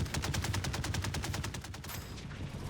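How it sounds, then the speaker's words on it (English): New gun block in the Trailmakers video game firing a fast, steady automatic stream of punchy shots, about a dozen evenly spaced reports that stop near the end and leave a brief tail. "Here's the new gun sounds."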